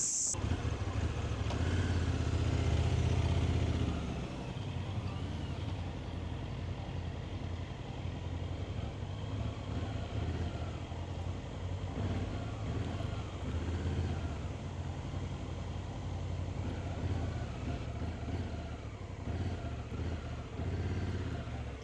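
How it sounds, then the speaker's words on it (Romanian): Two 2024 Honda motorcycles, one with DCT and one with E-Clutch, maneuver slowly at low speed, their engines revving louder at first and then settling into a steady idle-like rumble with small throttle changes. "Hai să vedem cât de manevrabile sunt aceste două motociclete."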